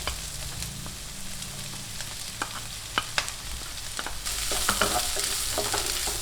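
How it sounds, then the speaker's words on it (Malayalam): Chopped onion and green chilli sizzle in hot oil with curry leaves, close and steady. Spoon scrapes tick through the frying, and the sizzle swells louder partway through. "അതിലോട്ട് നമുക്ക് അരിഞ്ഞു വെച്ചിരിക്കുന്നതായ ഉള്ളിയും പച്ചമുളകും കൂടെ ഇട്ട് കൊടുക്കാം"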